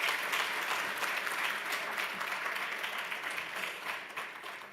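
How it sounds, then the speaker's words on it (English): Applause from the audience at a basic education conference, a steady wash of clapping from many hands that holds at an even level and fades slightly toward the end. "Let's give them a big hand of applause."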